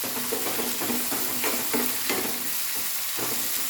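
Salted papaya curry on a medium flame is stirred with quick rhythmic scraping strokes over a constant loud sizzle, close up and with no voices.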